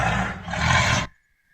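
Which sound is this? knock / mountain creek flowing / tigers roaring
tigers roaring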